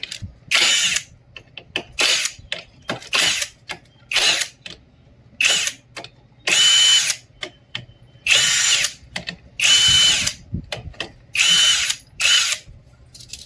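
An impact gun loosening clutch bolts on a Hero Splendor BS-6 motorcycle, fired in many short loud rattling bursts of varying length with brief pauses between, close by and without talk.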